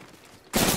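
Burst of gunfire in a battle royale shooter game, with an Alternator weapon firing: a sudden loud, dense volley kicks in about halfway through and keeps going to the end after a quieter stretch.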